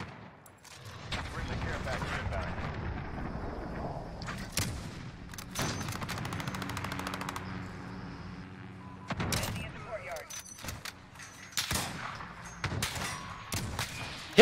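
Gunfire in a first-person shooter video game comes in repeated bursts and volleys, with several rapid exchanges spread through the clip and quieter gaps between them.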